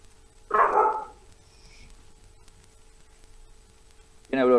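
A single close dog bark breaks into a quiet indoor classroom session, followed by a low steady hum and a brief loud voice-like burst at the very end.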